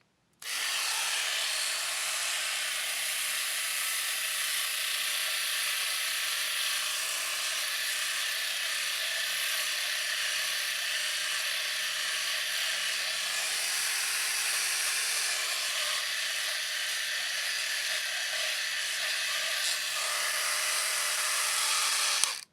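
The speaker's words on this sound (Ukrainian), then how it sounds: "давайте спробуємо протестувати її е, ну, безпосередньо за допомогою леза" An Alfasonic AS-1072 cordless electric shaver runs steadily with a close, bright buzzing hum while being tested with the blade on an arm, continuous and unbroken for over twenty seconds.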